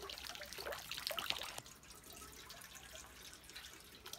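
Hands washed under running water at a Japanese temple, a close, steady splash and trickle that is louder at first and softer afterward, with no talking.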